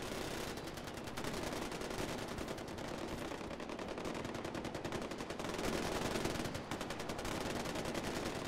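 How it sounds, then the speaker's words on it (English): Rapid automatic gunfire rattles across a training camp in Far Cry 4, fairly faint and distant, with bursts of machine-gun fire repeating in quick rhythmic volleys throughout. "Well, let's join them in the shooting."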